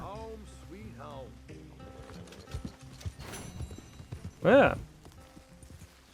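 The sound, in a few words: horse hooves clip-clopping, from the video game Red Dead Redemption 2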